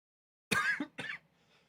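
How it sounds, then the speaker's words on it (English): A single cough, close and fairly loud, made of two quick bursts followed by a faint breath, with nothing else heard around it. "Oh no, I coughed."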